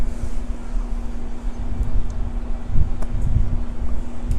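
Outdoor wind buffets a microphone with steady low rumbling gusts that swell and dip throughout, loud and close, with a constant hum underneath and no talking.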